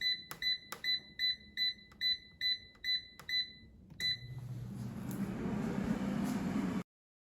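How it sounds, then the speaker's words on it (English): An air fryer signals the end of its cooking cycle with a series of about eight evenly spaced electronic beeps, followed by a steady whooshing fan hiss as the unit winds down. "Now the air fryer is done cooking"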